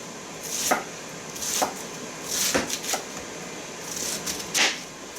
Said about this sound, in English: when you're cutting your cabbage to keep it on the cutting board